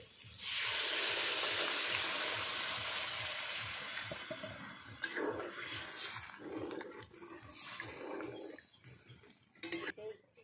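Water poured into a hot pan of posto paneer masala sets off a loud, steady sizzle and hiss that slowly fades, followed by faint clinks of a spoon against the pan.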